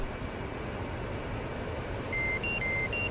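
A video game laser designator emits faint, short electronic beeps in a quick sequence of alternating pitches near the end, over a steady low hum.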